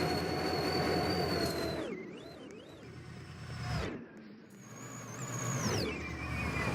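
Diesel locomotives of the New York, Susquehanna and Western railroad idling and starting up for the day's operations, a steady low engine rumble with shifting tonal whines and brief dips, near and loud throughout.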